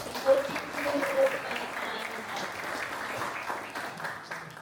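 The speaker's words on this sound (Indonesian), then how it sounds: "Berikan tepuk tangannya." Scattered applause rises from a crowd of students at a civic education event and continues steadily but quietly, heard from a distance with voices mixed in.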